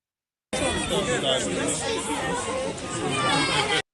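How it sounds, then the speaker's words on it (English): A large, excited crowd in New York chatters in a dense babble of many overlapping voices, loud and steady throughout after a brief silent start. "Huge crowd there. Look at the crowd to see him and how excited."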